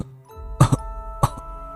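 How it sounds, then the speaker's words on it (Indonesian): Two or three short, harsh coughs ring out in quick succession, then one more after a pause, close and fairly loud in a quiet scene told as a pocong ghost's coughing in a horror story. "suara batuk terdengar dari sosok pocong itu"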